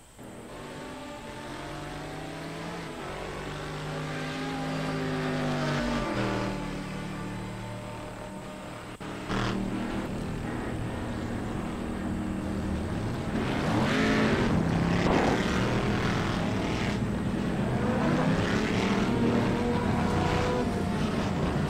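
GT1 race cars lapping Daytona at night in a sim racing game, with several engines droning and whining through rising and falling revs as cars pass. A steady, continuous mechanical roar, fairly close, without voices.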